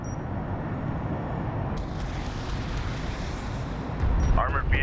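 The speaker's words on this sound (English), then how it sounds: "Armored vehicle is taking fire." Sustained low rumbling gunfire and impacts pound an armored vehicle in the desert strategy game Homeworld: Deserts of Kharak, a dense steady barrage that swells louder near the end with a burst of sharper crackle.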